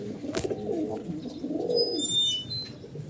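Pigeons coo nearby in soft, low, throaty rounds over a few seconds, with a few faint higher chirps in the background.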